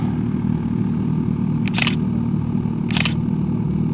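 Two crisp camera shutter clicks from a single-lens reflex camera, well apart, as a parked motorcycle is photographed at Cape Santiago Lighthouse in Calatagan, Batangas, over a steady low hum of engine and wind.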